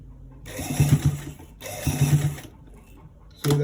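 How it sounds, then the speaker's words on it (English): A sewing machine stitches a V-neck neckline in bursts of about a second each, with pauses between them and a final short burst starting at the end, all close and without talk. "Let's put it under the sewing machine and stitch it straight on it."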